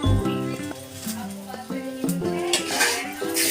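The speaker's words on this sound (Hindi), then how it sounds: "इसको मैं प्लेट से ढक दूँगी।" A plate clatters onto a non-stick frying pan as a makeshift lid in a home kitchen, giving sharp ceramic-on-metal clinks and a brief scrape, loud and close amid ongoing kitchen clatter.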